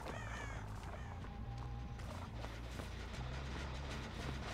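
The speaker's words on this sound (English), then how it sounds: "Birds landing here means that someone was here recently" Crows caw repeatedly in the Dead by Daylight match, several harsh calls scattered over a quiet, steady game ambience.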